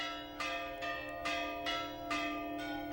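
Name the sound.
church bells ringing in Astrakhan, Russia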